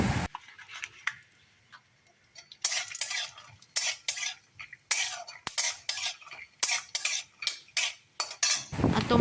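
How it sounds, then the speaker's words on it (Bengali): Peanuts are stirred in hot oil in a kadai, a spatula scraping and clattering against the metal in a quick repeated rhythm of sharp strokes, close and fairly loud over a faint sizzle. "আমি বাদামগুলোকে ফার্স্টে লাল লাল করে ভেজে নেব।"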